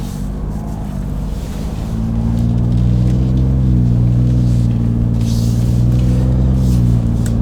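A car's 3-inch single exhaust with the resonator removed idles with a deep, droning rumble, then rises to a louder, steady low-pitched drone held for several seconds.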